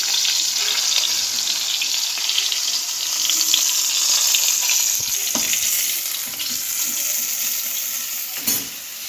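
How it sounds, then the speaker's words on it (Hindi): Chillies roast in a hot pan with a loud, continuous sizzle and crackle, occasional scrapes of stirring breaking through the steady frying hiss. "मिर्ची को भूनने में, यानी बनाने में।"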